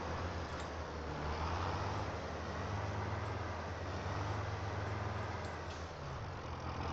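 A tractor pulling a seeder drives in the Farming Simulator video game, giving a steady low engine rumble with broad road-like noise that holds even and continuous throughout.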